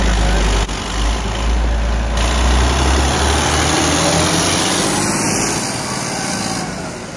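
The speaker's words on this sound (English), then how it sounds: "Idled a little on the rough side there." A John Deere 7520 tractor engine idles steadily and close by, a deep continuous rumble with a slightly rough, uneven edge, holding level throughout with no one speaking.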